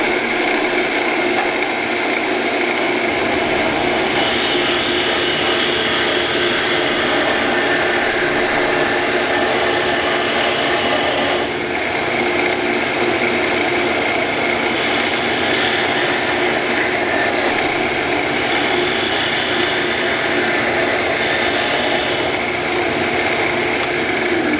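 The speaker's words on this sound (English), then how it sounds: "You saw how fast it went with the large roughing gouge." A pen blank spinning on a wood lathe while a large roughing gouge shears it, a loud, steady whirring hiss with a constant motor hum that runs unbroken the whole time.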